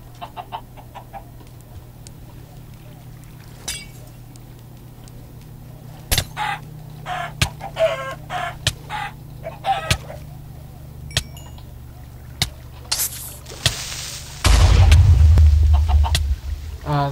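Chickens in a video game cluck in short, scattered bursts over a steady low hum, the calls irregular and fairly close, ending with a sudden loud rushing noise.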